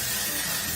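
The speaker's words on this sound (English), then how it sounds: "then I just add texture spray" A hair texture spray can releases one short, steady hiss of aerosol, close and even throughout, with no voices.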